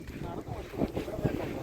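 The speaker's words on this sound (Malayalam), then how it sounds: "ഭയങ്കര കാറ്റുണ്ട്, നല്ല കാറ്റാണ് കേട്ടോ." Strong wind buffets the microphone at Alappuzha beach, a short burst of roaring gusts with distant surf beneath.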